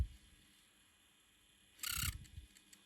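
A squeaky UMD drive inside a Sony PSP gives one short, bright mechanical chirp partway through, followed by a couple of faint clicks against a quiet background.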